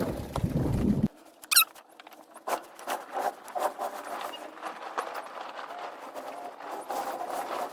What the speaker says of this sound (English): now we're going to start winding the sail up, which is on the deck